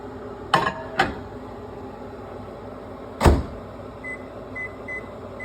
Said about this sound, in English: We're going to microwave this 1 more minute.